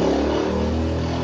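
Yamaha Vega ZR underbone motorcycle engine held at a steady rev, a continuous close, loud mechanical drone with a light clatter and no talk over it.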